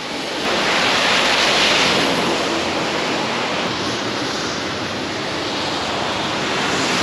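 Strong wind roars steadily into the microphone with a broad rushing hiss, loud and unbroken, mixed with rain.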